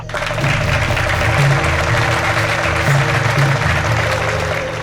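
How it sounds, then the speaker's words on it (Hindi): An audience clapping at a stage show, dense and sustained for about five seconds at a loud, even level, with a low hum of background tones beneath it. "तालियां"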